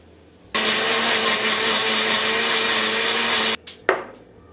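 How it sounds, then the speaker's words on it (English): A blender or small food processor whirs loudly and steadily for about three seconds while blending a garlic mixture for a vegan recipe, then stops, followed by a couple of clunks. "And now just blend all of this together."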